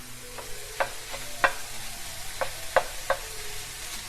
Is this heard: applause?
no